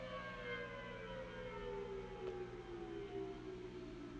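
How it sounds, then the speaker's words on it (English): A civil defense siren wails during severe storms, one long steady tone slowly falling in pitch, heard alone and at a distance. "if you're hearing a siren go off, it is intimidating, it is scary"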